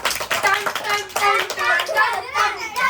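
Small children clapping hands in a rhythmic series of close, bright claps during a passing game, mixed with children's voices speaking and chanting.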